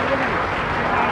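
Crowd clapping at a Hindu religious gathering, the Bageshwar Dham divine court at the Bundelkhand Mahakumbh, as a dense, loud burst of applause lasting about a second under a voice.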